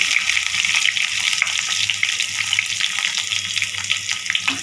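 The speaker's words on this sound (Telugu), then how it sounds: "ఆనియన్ కొంచెం ఫ్రై చేసుకోవాలి" Chopped onion and garlic cloves frying in hot oil for a tempering, a steady dense sizzle close by throughout with faint stirring, no voices.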